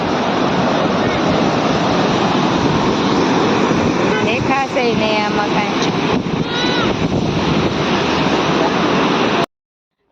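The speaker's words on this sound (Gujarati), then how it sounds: "અત્યારે મસ્ત પવન આવે છે" Strong wind gusts buffet the microphone on a large bridge over the Bhadar river. The blowing is loud and continuous, with rushing, surf-like noise, and a brief voice partway through before a sudden cutoff.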